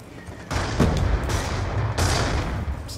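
Video game gunfire from an SB Wilms match, with a couple of sharp booming shots and a dense rumbling game backdrop, loud and close, with no voices.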